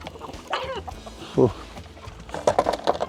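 Chickens cluck and squawk in short bursts nearby, with a few sharper calls among quieter background noise.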